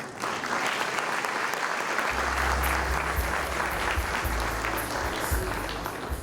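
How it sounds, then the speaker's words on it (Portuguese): Audience at a lecture event gives a sustained round of applause, dense clapping from a large crowd in a hall with a low rumble underneath, holding steady and easing slightly near the end. "Dr. Augusto Cury, mais uma vez uma salva de palmas."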